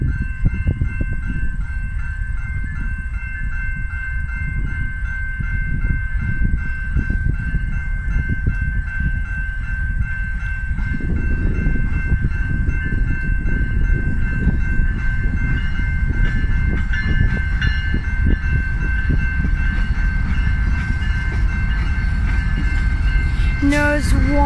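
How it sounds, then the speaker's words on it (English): A CN freight train rolls through a level crossing with lowered barriers, a continuous loud rumble of wheels and cars close by, with a steady crossing bell ringing overhead for the whole pass. "the barriers are down and there comes the CN train"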